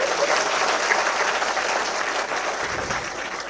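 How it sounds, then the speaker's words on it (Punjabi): Audience applause at a Punjab political address, dense continuous clapping from a large crowd filling the whole stretch at steady loudness. "ਜੇ ਸਹੀ ਹੈ ਤਾੜੀ ਮਾਰ ਦਿਓ ਨਹੀਂ ਤਾਂ ਨਾ ਮਾਰ"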